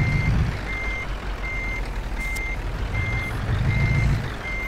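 A truck's reversing alarm in Euro Truck Simulator 2 beeps at a regular interval, a thin repeated tone over a steady low engine rumble, with no voices.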